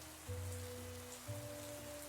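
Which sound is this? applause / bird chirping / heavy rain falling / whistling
heavy rain falling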